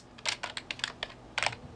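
Rapid, uneven keystrokes tap on a computer keyboard in a quick burst of clicks, close and clear, with no voices.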